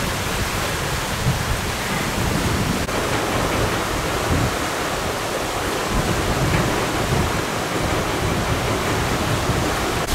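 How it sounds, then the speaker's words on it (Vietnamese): Heavy rain roars in a constant, loud broadband wash with no voices. "Hiện tại thì mưa rất là lớn nha các bạn."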